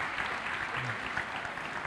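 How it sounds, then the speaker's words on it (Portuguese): Brief burst of audience applause at a live talk, a soft, steady patter of many hands clapping at moderate distance with a faint murmur of voices beneath. "Salva de palmas"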